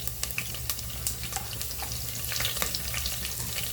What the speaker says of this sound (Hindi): ये देखो अभी ये इसमें तड़का डाल दिए, लहसुन, जीरा और मेथी दाना और करी पत्ता